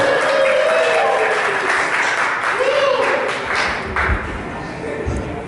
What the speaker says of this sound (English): Let's give a big round of applause to Philo.